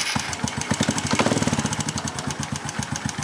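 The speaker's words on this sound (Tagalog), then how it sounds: "kailangan painitin niyo muna yung motor niyo bago niyo itono." A Honda XRM125 motorcycle engine idles while warming up before carburetor tuning, a close, loud, rapid chugging pulse that briefly picks up speed in the middle and then settles back to an even putter.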